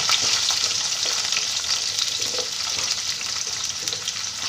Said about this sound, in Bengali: আলুগুলোকে একটু ভেজে নিয়ে তারপর আমি সব সবজিগুলো দিয়ে দেবো